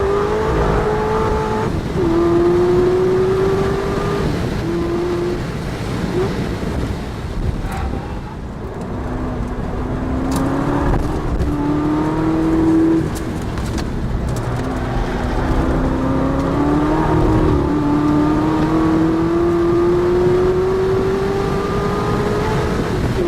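A Chevrolet Corvette ZR1 on Michelin Pilot Sport Cup tires laps the Nürburgring, its engine roaring loud and close with rising and falling revs through gear changes, steady and unbroken from start to finish.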